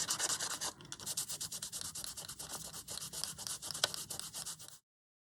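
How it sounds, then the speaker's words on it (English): Acrylic marker on an art journal page is rubbed out with quick, continuous scratchy strokes, a soft close-up rasp that keeps going for several seconds and then stops. "I'm rubbing it out really, but I'm just seeing what's happening."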